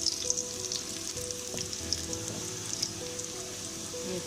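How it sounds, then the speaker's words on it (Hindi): Small dried red chilies frying in hot oil for a dal tempering, a continuous crackling sizzle with scattered sharp pops, close and fairly quiet, with faint clinks of stirring. "फिर इसे हम छोटी वाली जो लाल मिर्च होती है वो डालेंगे, इसको भी हमने अच्छी तरह भूनना है।"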